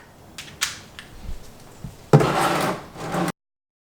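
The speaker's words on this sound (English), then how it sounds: "it's time to take the number 17 socket and my sumpy and remove the sump plug" A 17 mm socket loosens a car's sump plug in a few light clicks and taps, then draining engine oil pours out in a steady close rush that stops abruptly.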